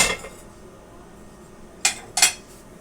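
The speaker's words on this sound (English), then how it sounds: "Let me get Grandmother's dishes out of the way so I don't get them broke." Ceramic dishes clink together as they are moved aside in a home kitchen, with two short bursts of clattering near the end following a quiet stretch.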